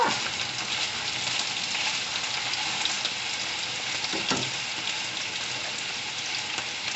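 Oil sizzling steadily in a frying pan over medium heat while cooking an omelette, a continuous close crackle with small pops and no talk.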